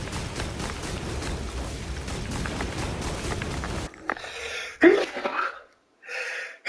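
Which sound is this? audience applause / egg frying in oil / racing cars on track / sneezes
sneezes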